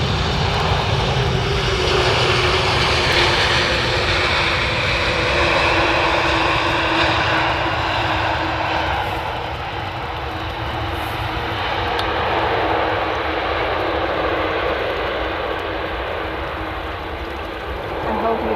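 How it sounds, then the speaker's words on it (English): A fixed-wing airliner arriving at Amsterdam Schiphol Airport on the Polderbaan runway gives a loud, steady engine roar that swells and eases slightly across the whole stretch, with voices talking faintly underneath. "Got to enjoy the roar, the engine roar"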